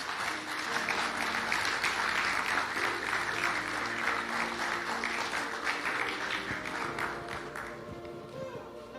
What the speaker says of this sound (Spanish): Vamos a darle un aplauso a este siervo de Dios.